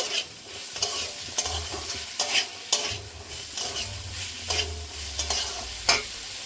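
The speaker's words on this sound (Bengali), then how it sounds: "মটরের সঙ্গে সুন্দর করে মশলাটা মিশিয়ে নেব" Spice masala being stirred into peas in a pan for ghugni, with a repeated rhythmic scrape and clack of the spoon over a constant close sizzle.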